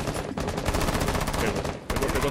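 Rapid bursts of automatic gunfire from the video game Rainbow Six Siege rattle loudly and nearly continuously, with a brief break before another volley resumes.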